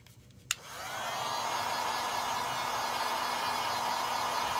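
A hair dryer clicks on and runs with a steady, close blowing whoosh as it dries paint on a layered mesh stencil.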